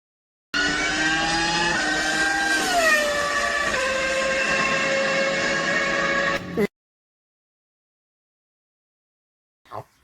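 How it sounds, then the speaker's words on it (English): A Vauxhall VX220 sports car on a classic road tour through Provence, France, gives a loud, steady engine drone that slides in pitch as it drives, then cuts off abruptly into silence. "it's a vintage sports car now, a Vauxhall VX220"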